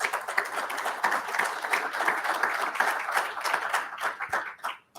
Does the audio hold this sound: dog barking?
no